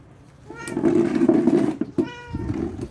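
A house cat meows close up, one drawn-out, wavering meow followed by a shorter second call.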